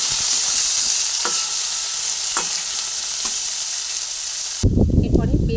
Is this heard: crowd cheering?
no